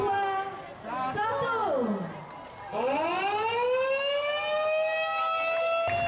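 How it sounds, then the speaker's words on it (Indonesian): Siren set off by button press at a road inauguration in Puger, Jember, rising and falling in loud wailing sweeps, starting, dipping, then winding up again, with crowd chatter underneath. "ditandai dengan penekanan tombol sirine bersama pejabat terkait"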